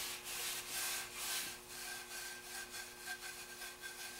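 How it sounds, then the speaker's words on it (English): Steel wool scrubbed back and forth over a rusty steel tool face after electrolysis rust removal, a steady rasping scour in repeated strokes, close and alone with no talk. "we'll take a little piece of steel wool and finish it up"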